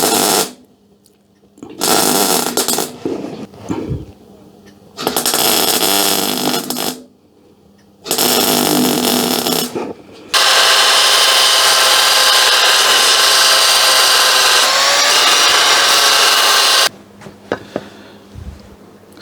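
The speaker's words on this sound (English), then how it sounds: "So now I'm going to plug weld that and plug weld that." Plug welding through holes in a steel car panel: several loud bursts of harsh crackling sizzle, separated by short silences, ending in one long sustained weld before the noise drops away.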